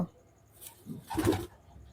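Pigeons in a breeding loft give a few soft, low coos, swelling in the middle of the moment against a quiet background.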